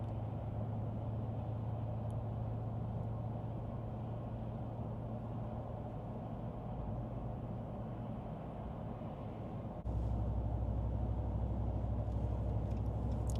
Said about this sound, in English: Unfortunately, we are not on the smoothest road, but I'll continue to stay quiet a little longer.